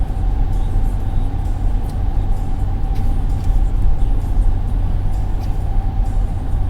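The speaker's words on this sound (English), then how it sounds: "I've been driving for a little bit." A van driving along a road near Allegheny State Park, with a steady engine drone and road rumble heard from inside the vehicle, continuous and fairly loud.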